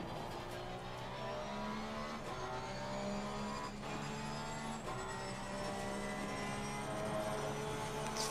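Race car engine in the video game Assetto Corsa Competizione: a steady, high-pitched whining drone held throughout with small pitch shifts as revs change, moderately loud and continuous with no talking.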